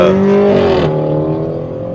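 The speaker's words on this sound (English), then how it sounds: "Somebody with a loud car next to me." A loud car right alongside on a golf course revs its engine, the tone rising and then dropping away as the roar fades within two seconds.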